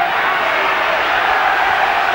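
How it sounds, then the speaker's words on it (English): A Bristol rugby crowd roars in support of its side during a Premiership match, a steady, broad wash of cheering that stays loud and unbroken. "Bristol crowd starting to really get behind their side here."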